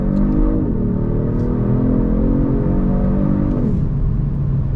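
A 2022 Genesis G70 Sport sedan accelerates hard from inside the cabin, its engine note climbing steadily and then dropping sharply at a quick paddle-shifted upshift, a loud continuous drone with no talking.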